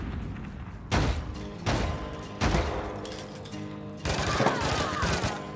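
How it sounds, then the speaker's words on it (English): Bursts of gunfire ring out during a mission in the game APB Reloaded. There are four heavy booming volleys, the last a longer rattling string of shots, set over a constant background hum. "I shoot these fuckers."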